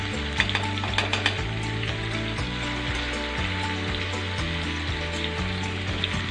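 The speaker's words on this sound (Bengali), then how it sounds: "এবার আমি ওই যে মশলা মাখা ধোয়া জলটা একটুখানি পরিমাণ মতন দিচ্ছি।" Hot spiced water splashes into cauliflower frying in oil, bursting into a loud, steady sizzle with bright crackling, while a utensil stirs and scrapes through the pan with a strong rhythmic low thumping underneath throughout.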